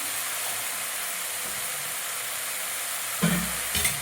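Vegetables with masala are stirred in a frying pan for veg noodles: a steady sizzle, then a louder scrape and clatter of the spoon near the end.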